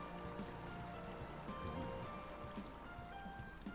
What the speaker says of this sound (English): There is a distant sound of bubbling water.